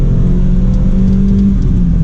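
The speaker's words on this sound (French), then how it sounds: "on entend plus le bruit du moteur" Renault Twingo RS with a 1.6-litre 133 hp engine revs steadily inside the cabin, a loud continuous drone with a rising whine that holds through the whole stretch, with no voices over it.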